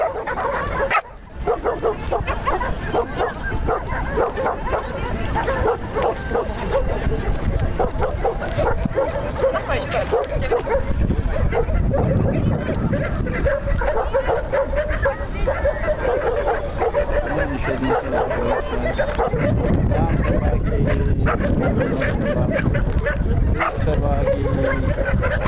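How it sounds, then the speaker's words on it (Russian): Dogs at a dog show bark, yip and whimper almost continuously throughout a long, busy stretch, with people talking nearby much of the time. "Собаки."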